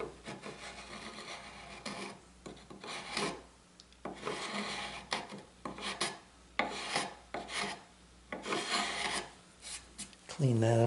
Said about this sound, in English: if I take and run a chisel here,